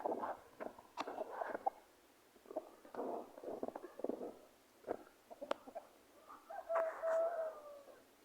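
Chickens clucking and calling in a rural yard with roosters nearby, short irregular bursts of soft vocal clucks and squawks with gaps between, fairly close and moderately quiet.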